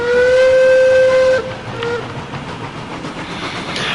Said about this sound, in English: This is not a fast train,